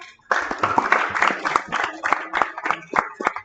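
Group of youth challenge participants clapping for themselves at an event, a burst of uneven, fairly close handclaps lasting several seconds with scattered louder claps, no voices over it.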